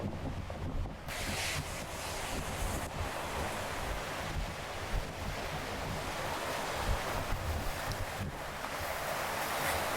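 Sea waves wash over reefs along a rocky coast, forming a continuous rushing surf, with heavy wind buffeting the microphone outdoors.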